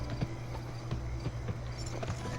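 Horses gallop in a race in the video game Gun, a quick rhythmic clip-clop of hooves over a low steady rumble, moderately close and fairly quiet.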